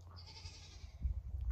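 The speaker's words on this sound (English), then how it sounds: "Goats are shouting at us." Goats bleat from somewhere off to the side of a warm, muggy kitchen garden near a greenhouse, a few calls carrying over a low rumble of background noise, with no talking.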